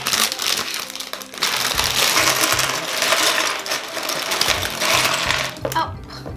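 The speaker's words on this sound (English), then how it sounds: "Let's rip the package open for all the parts." Plastic packaging from a LEGO Creator Outback Adventures 31075 kit is ripped open, giving a sustained loud crinkling and rustling with clattering bits of plastic parts spilling, continuous for several seconds before dropping off.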